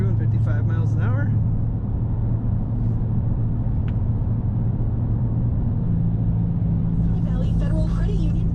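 Steady low road rumble inside a 2010 Dodge Challenger R/T Classic cruising at 55 mph, a smooth continuous drone throughout with a voice talking over it at the start and end.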